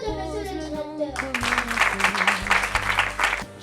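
Audience applause breaks out at the Eduschool complex's prize ceremony for top students, a dense, steady clatter of many hands lasting a couple of seconds after a short stretch of tonal, music-like sound.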